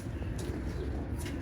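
A pigeon coos softly a couple of times against a quiet, steady background.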